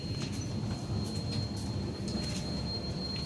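A passenger train running at night on the route from Rangapara toward Varanasi, heard from inside the carriage as a steady low rumble and rattle of wheels on rails, with no talk.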